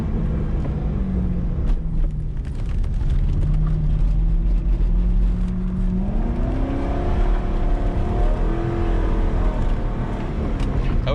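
A 2004 Corvette C5 with a six-speed manual drifts on a wet mountain road at night, its engine droning and climbing steadily in pitch as it revs, loud and close inside the car, with a constant hiss of road and tyre noise underneath.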